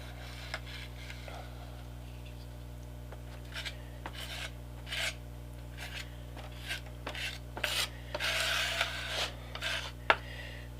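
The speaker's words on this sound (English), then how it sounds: "So now I've got a scraper, and I'm going to take it and I'm going to spread this glue out." A scraper spreads glue across a diorama model build, giving soft intermittent rasping and rubbing strokes that grow busier toward the end, faint and close over a steady low hum.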